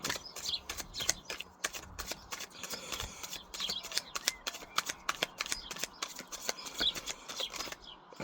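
Tarot cards shuffled by hand, a rapid run of crisp riffling flicks and soft slaps, close and steady for several seconds with no talk over it.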